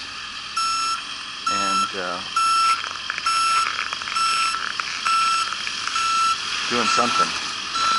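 A front end loader clearing snow after a storm in Ottawa sounds its reversing alarm, a steady run of regular loud beeps over rumbling machinery, with someone speaking briefly.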